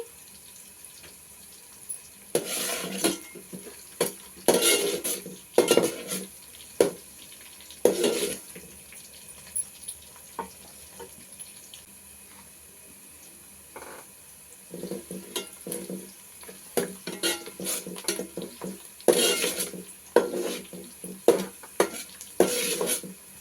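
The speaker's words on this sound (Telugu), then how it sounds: "ఈ ఉల్లిగడ్డ బాగా వేగిందండి" Chopped onion frying in a pan with cumin for sambar rice, stirred in bursts of scraping and clattering over a low sizzle, with quieter gaps between the stirring spells and a faint trickle of water at times.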